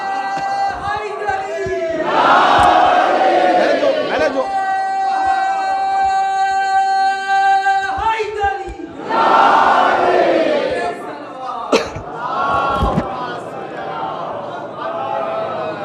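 Large congregation in a Shia mosque in Kolkata shouting the Naara-e-Haidari slogan in loud collective bursts, with a sustained chanted tone between roaring waves of massed voices, close and reverberant.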